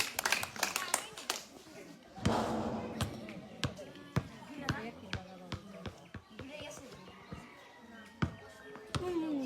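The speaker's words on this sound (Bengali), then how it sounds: "সবাই একটা হাতে তালি একসাথে" A group claps hands outdoors, with scattered sharp claps that are sometimes together and sometimes uneven, under talk.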